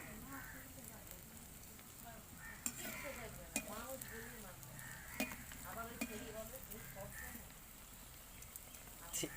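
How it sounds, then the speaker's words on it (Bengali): Potato-filled shankha snacks frying in hot oil give a steady, close sizzle with occasional sharp clinks of stirring, and a voice murmurs faintly underneath. "তেল গরম হয়ে গেছে, এবারে আমি ভেজে নেব"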